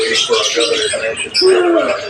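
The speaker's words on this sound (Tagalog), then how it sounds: "Ingay ng mga ibon, no?" Birds chirp and coo busily nearby, a noisy flock calling over a steady hiss while a person speaks over them.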